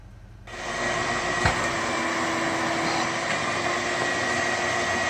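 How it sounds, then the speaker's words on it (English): Steady vacuum cleaner drone switching on after half a second of quiet and then running continuously and fairly loud at home, with a faint knock partway through and no talking. "I don't like to vacuum, here he is vacuuming"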